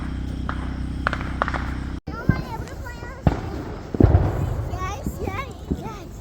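Fireworks from a one-fuse backyard show go off in a few sharp pops and bursts, then people talk excitedly in the foreground over lingering crackle.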